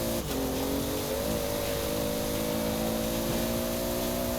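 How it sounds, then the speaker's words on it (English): A 1600-horsepower 1992 Toyota Supra race car in the Forza Horizon 4 racing game holds a steady, loud high-speed engine drone with a turbo whine layered on top, continuous and unbroken throughout. "And you can hear that turbo."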